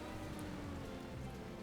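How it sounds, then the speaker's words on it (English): Rain falling in the farming video game Farming Simulator 2015, a soft continuous patter with a low steady rumble beneath, faint and even with no voices. "It's a shame it's raining."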